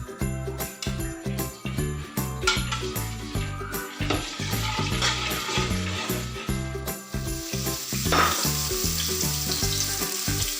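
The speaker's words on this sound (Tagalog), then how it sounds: "Ngayon, maglalagay tayo ngayon ng atswete oil." Annatto oil sizzles and crackles in a hot pan while cooking kare-kare, a dense close frying hiss running steadily with occasional clinks of a utensil stirring, and no voices.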